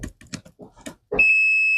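A continuity tester on Kato N scale Unitrack track gives a steady, high electronic beep that starts partway through and holds, right after someone speaks briefly.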